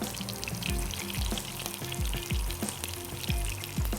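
Chicken balls, fried on one side, crackle and sizzle in hot oil, with steady spattering and faint scraping and clinking of a utensil against the pan; close and fairly loud, no talking.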